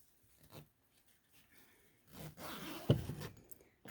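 A nylon zipper is pulled along a mesh caterpillar rearing enclosure, a short close scraping run that rises and ends in a sharp tug, after a few faint rustles.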